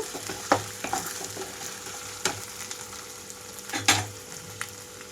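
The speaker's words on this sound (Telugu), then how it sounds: "కూరని మూత పెట్టేసి వేయించుకుంటున్నాను ఉల్లిపాయలు పర్ఫెక్ట్గా వేగిపోవాలి" Sliced onions fry in a covered pan for a brinjal and green pea curry, giving a faint continuous sizzle broken by a few sharp clatters of stirring and lid knocks.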